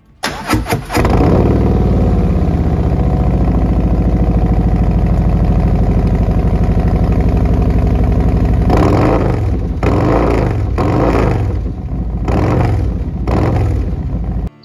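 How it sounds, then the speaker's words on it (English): A 2024 Harley-Davidson motorcycle engine fires up close by, settles into a loud, loping idle for several seconds, then gets a series of sharp throttle revs that rise and fall before it shuts off. "I wanted it to sound like a Harley."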